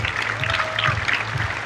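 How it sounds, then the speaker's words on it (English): Audience applause at a Google I/O Extended Sri Lanka event, a dense, steady wash of clapping lasting under two seconds with a faint tonal whistle through the middle. "Big round of applause."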